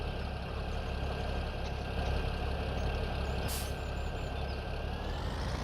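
A tractor engine runs steadily in Farming Simulator 17, a constant low droning hum with a brief hiss partway through, no talking.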